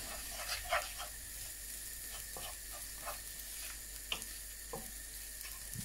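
Spices sizzle in a hot pan while being stirred. A steady, faint frying hiss is broken by small clicks and scrapes from the stirring.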